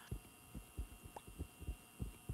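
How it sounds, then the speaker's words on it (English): A steady heartbeat thumps in the Backrooms video game, regular low double beats repeating about every half second over a faint electronic hum, with no voices. "I hear a heartbeat."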